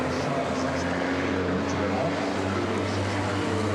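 Racing truck engines roar at the Le Mans circuit during a European Truck Racing Championship weekend, a steady distant drone with a low hum, heard under commentary.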